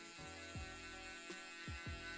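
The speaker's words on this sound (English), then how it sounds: "grab your electric shaver, just tap into it" An electric shaver buzzes steadily and faintly during a low fade haircut, its motor hum dipping briefly several times as the blade moves against the hair.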